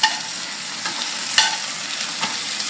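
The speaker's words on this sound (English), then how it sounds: "It's nice and sizzling over there." Steak sizzling in a hot pan: a close, steady bright sizzle with a few sharp pops and crackles scattered throughout, no voices.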